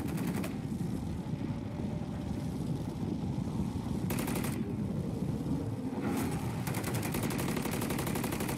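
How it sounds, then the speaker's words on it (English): Sustained automatic fire from a deployed sentry gun in Call of Duty MW3 Zombies, a dense continuous rattle that runs the whole time, with bursts of sharper crackle layered over a steady low rumble. "sentry gun deployed!"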